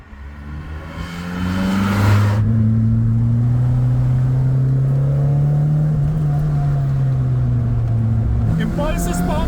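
A Suzuki Swift GTi hot hatch with an optimized cylinder head, a small four-cylinder that revs to 8,000 rpm, climbs in a loud, sustained rev and holds a steady drone close by, then drops off near the end.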